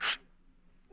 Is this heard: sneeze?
yes